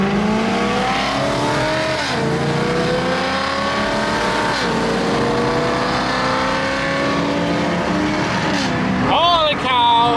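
A BMW E90 M3 drives hard, its engine loud and close as it revs and climbs through the gears, with sweeping pitch rises and drops at each shift and a burst of revving near the end.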